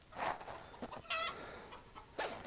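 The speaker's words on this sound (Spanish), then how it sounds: "Gallo macho" A roughly three-year-old Sweater-breed rooster on a breeding farm gives a few close, throaty clucks and short calls in quick bursts against a quiet background.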